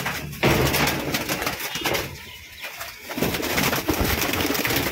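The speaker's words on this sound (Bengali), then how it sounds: "পায়রাগুলো প্রচন্ড চটপটে," Restless pigeons cooing and fluttering inside an indoor loft, a near, continuous jumble of coos and wing flaps with a short lull partway through.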